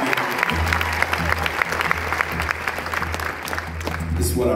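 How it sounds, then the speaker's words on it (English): A concert audience claps and cheers loudly at a live show in Lancaster, PA. The applause is dense and continuous, with a low hum beneath it and whoops rising out of the crowd. "Y'all can cheer for her real loud if you want to."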